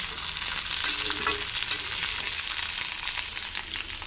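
Bitter gourd and large onion pieces frying in a pan, a dense, bright, continuous sizzle with faint stirring scrapes, close and steady throughout, no speech.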